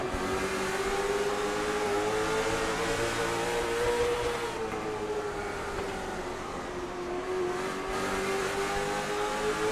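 Race cars in the iRacing video game circle Hickory Motor Speedway, a continuous engine drone that rises and falls in pitch as the pack runs down the backstretch, loud and steady with no talk.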